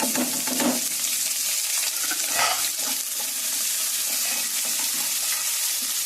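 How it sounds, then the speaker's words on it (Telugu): Onions and spices frying in a pan for a spinach and chana dal curry, giving a continuous close sizzle with occasional stirring clatter and no talking. "మనకి వేగింది కదా ఉల్లిపాయలు మసాలా మొత్తం కూర అంతా వేగిపోయింది"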